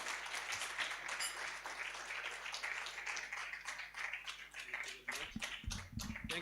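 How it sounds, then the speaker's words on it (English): A crowd claps steadily in sustained applause, dense and close, tapering off near the end as a few louder nearby claps sound. "Let's clap for him"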